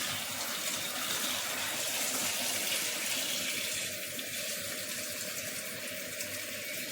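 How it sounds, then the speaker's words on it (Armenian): Cold water runs from a tap in a steady, unbroken splashing stream, close and fairly loud for about seven seconds, with no voices. "սառը ջուր եմ լցնում"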